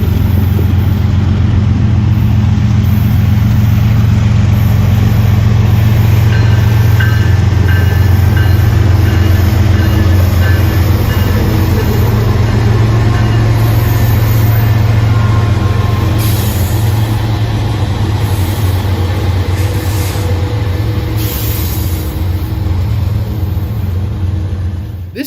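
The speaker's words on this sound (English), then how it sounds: "CN 301 slowly crawled its way into the station." CN 301 freight train crawling slowly into a station, a steady loud low rumble of engine and rolling cars with faint wheel squeal and metallic tones throughout, no voices.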